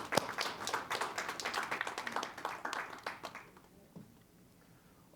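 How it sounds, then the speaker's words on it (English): Audience applause for a guest named Gary Nelson on a talk show, a burst of dense clapping that fades away after about three and a half seconds, leaving quiet room tone. "join me in a round of applause for"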